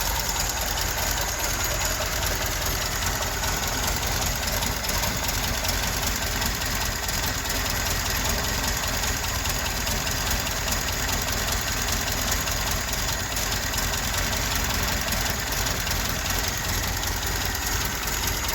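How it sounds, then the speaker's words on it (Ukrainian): A 1987 Ford Sierra 1.6 petrol engine, freshly repaired and warming up, idles steadily and continuously at close range, a constant even rumble with no talking. "Дамо його трошечки прогрітися щоб він більш-менш виробив холостий хід."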